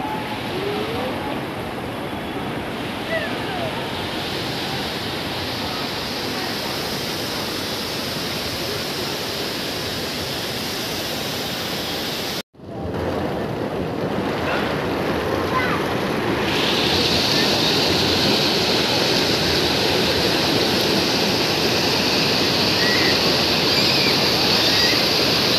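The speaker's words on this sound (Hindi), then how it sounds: "पानी की ये बौछारें जो बिल्कुल बारिश जैसी लग रही हैं" The Sahastradhara falls near Dehradun pour countless streams down like rain, producing a dense, continuous roar of rushing water, loud and close throughout. A brief dropout comes midway, then the wash resumes slightly brighter.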